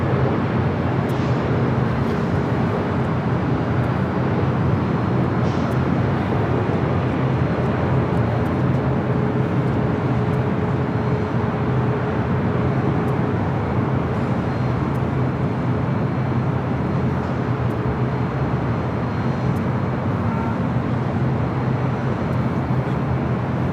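Airliners at LAX airport, a steady, continuous jet engine roar with a broad rumble that holds throughout, like aircraft taxiing or passing on nearby runways, with no speech.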